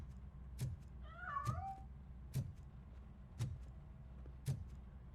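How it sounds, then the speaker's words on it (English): Cat meowing inside a Robocop: Rogue City video game scene, a short warbling meow rising mid-clip over a low hum, with several sharp knocking thumps spaced about a second apart. "That cat must be hiding inside."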